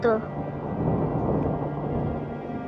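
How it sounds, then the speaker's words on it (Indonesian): A thunderstorm rumbles in a survival crafting video game, a low, heavy roll of thunder with steady rain hissing beneath it, continuous and moderately loud. "Gede kan badainya?"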